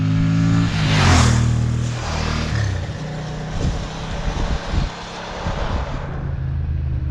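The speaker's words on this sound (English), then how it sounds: "Racing up through the rev range through all the gears is an absolute joy." A Ducati 750SS motorcycle engine revs hard up through the gears, loud and close, its rising drone broken by brief dips at each shift before climbing again.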